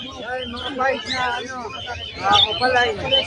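Many birds chirp and tweet together in a busy, overlapping chorus at a pet market in Malabon, close by, with people talking faintly in the mix.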